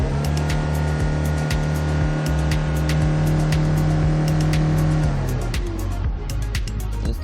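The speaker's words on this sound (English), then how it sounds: "Can you hear the engine sound? It sounds perfect, nothing sounds weird or something." A white 2007 Kia Bongo III double-cab diesel truck with manual transmission revs its engine steadily up close, a deep rumbling drone that drops in pitch near the end as the revs ease off.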